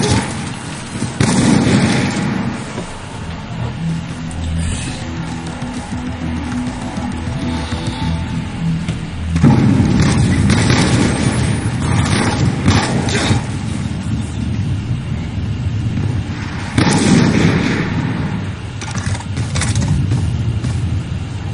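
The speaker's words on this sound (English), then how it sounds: "I guess I'm going to just roll the triple wall bang right now" Black Ops 2 trick-shot gameplay on the Studio map, with a few loud, sharp gunshot bursts spaced several seconds apart amid mechanical game noise and a steady background.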